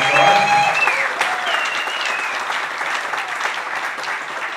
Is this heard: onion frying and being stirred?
no